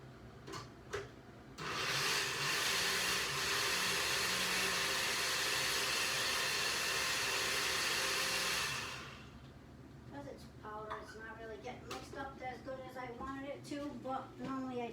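A blender mixing a mushroom coffee drink runs with a loud steady whir for about seven seconds, then stops, with speech after it and a few soft clicks before.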